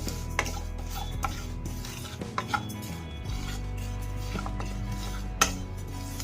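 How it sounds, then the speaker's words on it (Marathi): Sesame seeds dry-roasting in a pan over a low flame while a spoon stirs them: a continuous scraping rustle, occasional metallic clinks against the pan, and a steady background hum. "तीळ पण कमी गॅसवरती भाजून घ्यायचं आहे"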